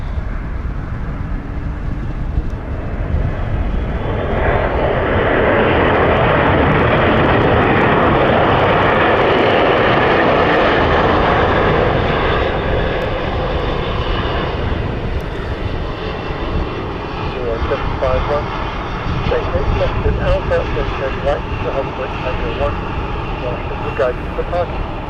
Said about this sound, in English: Bit of a hard landing, but still good.